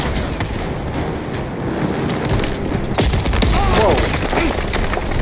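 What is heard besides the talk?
tank cannon and gunfire in Call of Duty Vanguard video game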